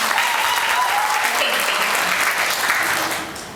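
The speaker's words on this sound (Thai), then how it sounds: "ขอเสียปรบมือดังๆให้กับเขาอีกครั้งหนึ่ง" A seminar audience applauding loudly, a thick continuous wash of many hands clapping with a voice briefly audible over it, tapering off near the end.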